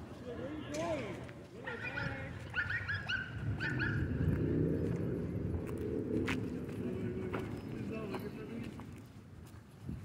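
German Shepherds and a husky shepherd mix play at a dog park, their paws scuffling and thudding across the ground with occasional barks, while people chat nearby.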